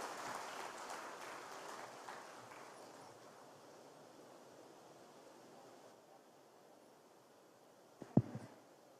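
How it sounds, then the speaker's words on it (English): Audience applause at the seventh convocation of the Central University of Kerala, a broad wash of clapping that fades out over several seconds, followed by a brief bump. "Let us have a big round of applause for the future awardees."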